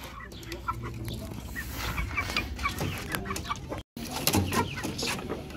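A flock of Naked Neck chickens clucks and chatters continuously at feeding time, some birds near and some farther off, with no talk.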